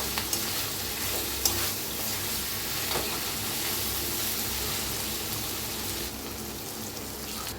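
Cluster beans (gavar) with garlic cooking uncovered in a pan while being stirred, a dense, even sizzle that holds steady throughout, with a few faint scrapes early on, near and without voices.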